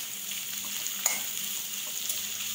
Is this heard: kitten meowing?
no